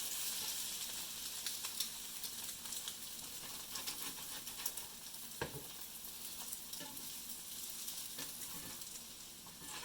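French toast sizzles and fries steadily in a hot pan while slices are turned over, a dense, continuous crackle with scattered louder pops and clinks, no voices.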